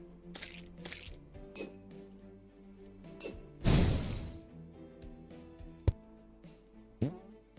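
A hammer smashing blocks in the video game Terraria produces a series of short, crunchy hits and clinks, with one heavier crashing burst midway, set over a steady droning game backdrop.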